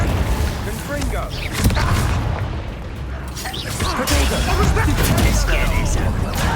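Explosive Confringo spell blasts go off in Hogwarts Legacy, booming and crashing in bursts under loud, excited talk.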